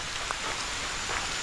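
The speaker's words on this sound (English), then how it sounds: "But we gotta get going, that rain is coming." Rain falling outdoors in Pennsylvania countryside, a steady hiss of drops on surfaces with a few brighter patters, close and continuous with no voices.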